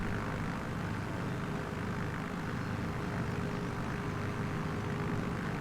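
A propeller airplane in Microsoft Flight Simulator 2024 roars steadily as it takes off, a dense, unbroken engine drone held close and loud with no talk over it.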